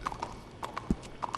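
A horse's hooves clip-clop in Red Dead Redemption 2, a few light, irregular steps close by over a quiet background.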